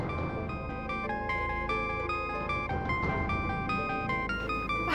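A phone rings with a repeating electronic melody of bright, stepped tones, steady and moderately loud throughout, with no voices over it.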